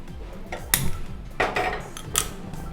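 A few metallic clanks and knocks as a cooking pot is set down and shifted on a stove, close and fairly loud, without talk.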